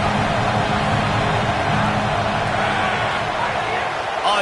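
Home crowd in a college football video game roars loudly and steadily throughout, a dense wall of cheering with a commentator-style voice talking over it.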